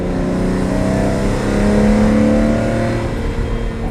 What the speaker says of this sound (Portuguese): o motor não perdeu esse ronco. Muito característico.